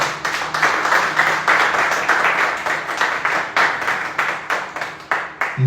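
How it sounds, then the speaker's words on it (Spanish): A church congregation at an evening men's service claps in praise, a lively applause with distinct rhythmic hand claps pulsing close and steady throughout. "Denle ese aplauso al Señor."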